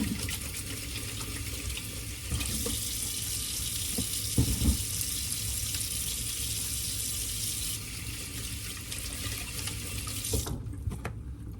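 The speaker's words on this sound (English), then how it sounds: "let me wash off my hands here" A kitchen tap runs steadily into a sink while hands are washed under it, a loud continuous gush with brief splashes and rubbing, then the water cuts off at the end.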